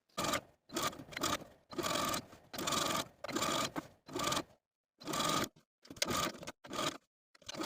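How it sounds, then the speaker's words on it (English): A home sewing machine understitches a silk dress's seam allowance to its binding, running in short, close bursts of rapid whirring separated by brief pauses. "Stitching the seam allowance to the binding about 1/8 of an inch away from the original seam line all the way around"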